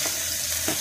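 Cabbage and other vegetables hit a hot pan of Thai fresh-chili stir-fry with pork sausage and fermented pork, giving a steady, close, hissing sizzle with a couple of soft clatters.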